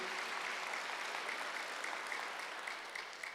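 A church congregation at a Wednesday worship service claps steadily, an even, distant wash of applause that holds throughout and tapers off slightly at the end.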